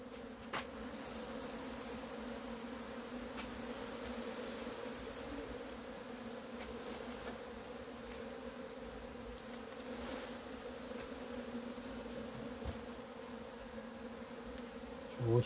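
A swarm of native Korean honeybees drones in a steady, dense buzz at close range, continuous and unbroken throughout as the swarm is gathered in the evening.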